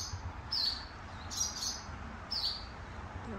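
Aggressive nesting birds scolding and dive-bombing an intruder on a trail near Port Clinton give three short, sharp chirps spaced about a second apart over a quiet, faintly noisy background.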